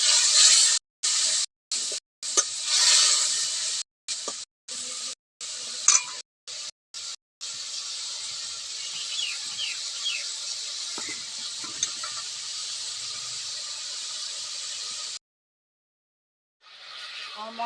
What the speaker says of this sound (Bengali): এখন আমি মশলাটাকে ভেজে নেব।